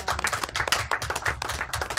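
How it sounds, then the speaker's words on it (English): A small group claps at a planning and sustainability commission meeting, producing a short, close run of uneven hand claps with distinct individual slaps rather than a crowd roar. "So I want to clap for you."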